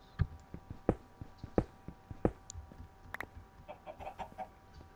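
Chickens cluck in the video game Minecraft in a quick, irregular series of short notes, fairly close and moderately loud, with no one talking.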